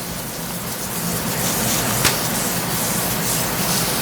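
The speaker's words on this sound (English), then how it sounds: "So we're going to spray right now." A steady hiss of cooking spray on a baking pan held for several seconds, fairly close and even, with no talking.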